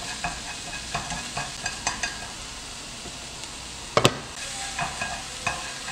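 Beef seasoned with soy sauce and sugar stir-fried over low heat in a pan for japchae, a steady soft sizzle with light scraping stirs every half second or so and one sharper clack of the utensil partway through, close and alone without talk.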